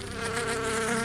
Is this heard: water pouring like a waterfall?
no